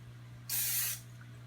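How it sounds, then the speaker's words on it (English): A single half-second burst of cooking spray hisses from a can onto a baking dish, close up, over a faint steady hum. "the first thing we're going to do is to spray our dish"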